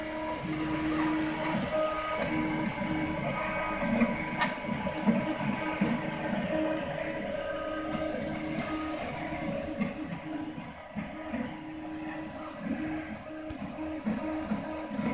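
A 3D printer running a job on large prototype parts, about 8 by 7 inches, gives a steady mechanical hum with rhythmic motor whirring and faint clicks that continue throughout at moderate level.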